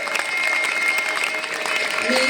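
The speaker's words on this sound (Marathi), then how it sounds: "जोरदार टाळ्या झाल्या पाहिजे।" Applause from an audience at an annual school prize-giving ceremony, a steady dense patter of many hands filling the whole stretch at even loudness, with a faint murmur of voices underneath.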